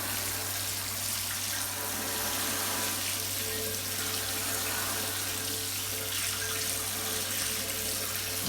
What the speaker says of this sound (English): torrential rain is about to pour down on Jim's in the shelter